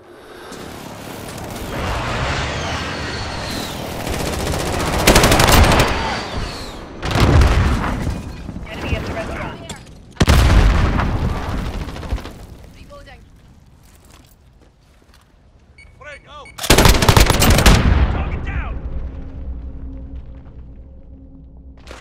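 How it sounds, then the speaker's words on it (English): Call of Duty: Modern Warfare match with repeated loud booming airstrike blasts and bursts of gunfire, some rumbling close explosions separated by quieter stretches, while in-game voice callouts speak over the action. "Enemy precision airstrike."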